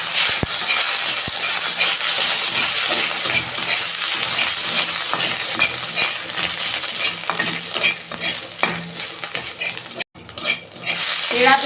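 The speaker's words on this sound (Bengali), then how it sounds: "তেলের মধ্যে আমি আদা দিচ্ছি" Grated ginger sizzling and being stirred in hot oil for a vegetarian dal, a steady loud frying hiss with scraping spoon strokes and light clinks of the pan throughout.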